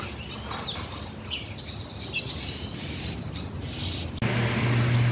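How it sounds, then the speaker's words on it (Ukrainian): Several birds chirp and trill at a distance in the morning over a steady outdoor hiss, with a low rumble coming in near the end. "Боже, як тут співають пташки"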